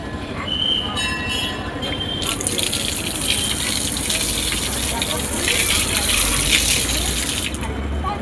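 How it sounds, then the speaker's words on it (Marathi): Tap water gushes steadily for washing hands and feet at a temple fair, a broad continuous rush that fills the clip with a muffled voice in the background. "ते पाणी चालू होते।"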